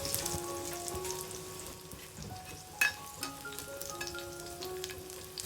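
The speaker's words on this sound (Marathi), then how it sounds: "थोडा लसूण आपण लाल होऊन द्यायचं लसूण चांगला परतून झालेला आहे" Garlic fries and sizzles in oil in a pan for a pomfret fry, crackling softly and steadily with a brief sharp clatter midway.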